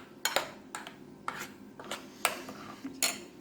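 A spoon stirs curd into bitter gourd pachadi in a bowl, giving a series of scraping, clinking strokes at a steady rhythm, close and fairly quiet.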